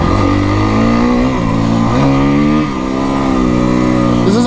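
A Kawasaki KX motocross bike at a motocross park revs its engine loudly and close by, a steady buzzing drone whose pitch climbs and dips through the throttle changes, with no voices over it.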